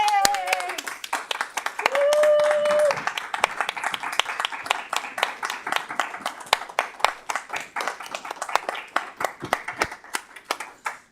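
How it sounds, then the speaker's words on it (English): Attendees at a school board of trustees public meeting clap in a steady round of applause lasting several seconds, with a voice speaking over the start. "I think that this deserves a round of applause."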